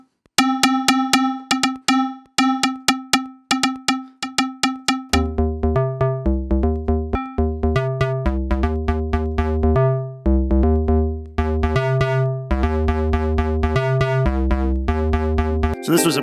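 Percussion track on an Elektron Model:Cycles synthesizer: a run of sharp metallic cowbell-like hits that builds into a dense rhythmic pattern with punchy low pulses, loud and steady with no talk.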